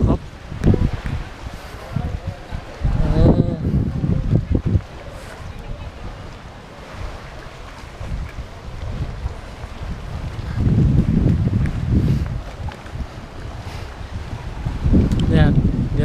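Strong wind buffeting the microphone at the coast as Storm Pabuk approaches Nakhon Si Thammarat, with rushing surf underneath and someone talking over it.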